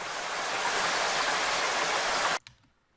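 A synthesized downpour roars as a thick, loud, continuous wash of rain noise, then cuts off abruptly near the end, leaving near silence.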